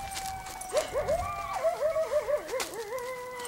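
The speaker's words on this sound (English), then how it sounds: "You guys hear the coyotes?" Coyotes yip and howl close by on an evening in Patagonia, Arizona, a chorus of rising and wavering wails layered together, fairly loud against quiet surroundings.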